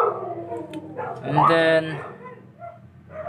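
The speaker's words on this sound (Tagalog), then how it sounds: "maraming aso sa labas" Dogs barking and howling outdoors, a drawn-out yelping howl rising in the middle, somewhat distant and mixed under someone talking indoors.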